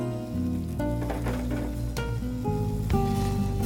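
Peach barbecue glaze sizzling on a hot pork tenderloin made with Stubbs marinade, a steady close frying hiss with faint crackle running the whole time, with music playing over it.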